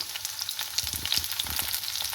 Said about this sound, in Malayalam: ഇത് പാനിലേക്ക് പോർക്ക് ഇതേപോലെ ഒന്ന് ചെറുതായിട്ട് ഫ്രൈ ചെയ്ത് കൊടുക്കാൻ